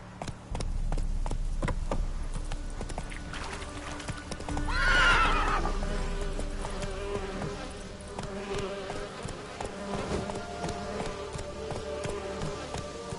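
Horse neighing and clopping its hooves in the video game Witcher 3, with steady clip-clop steps throughout and a loud whinny in the middle, close and clear over faint insect-like buzzing.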